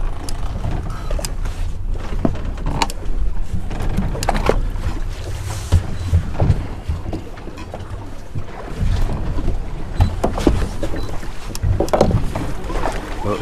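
A fishing boat's engine runs steadily offshore during daytime swordfishing off Texas, a continuous low drone mixed with wind and water noise, with a few sharp clanks and knocks from gear on deck.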